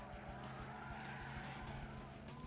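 A police car in the Banjo-Kazooie: Nuts & Bolts video game gives off a faint, continuous whirring engine and siren-like wail with rising and falling warbling tones.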